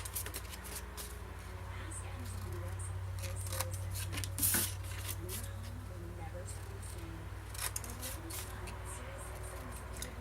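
Scissors snip the corners of paper for a scrapbook folio, a few close, crisp cuts and rustles of paper against a steady low hum, with a person talking intermittently.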